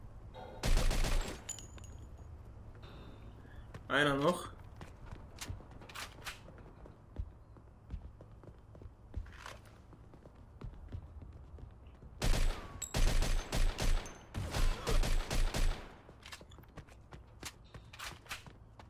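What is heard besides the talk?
gunfire in the video game Mafia II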